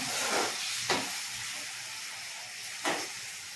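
Tomatoes fry in a pan for egg biryani with a steady, soft sizzling hiss throughout, broken by two brief louder bursts of spatter.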